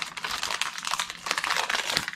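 Thick plastic packaging crinkles and crackles up close in quick, irregular bursts of rustling.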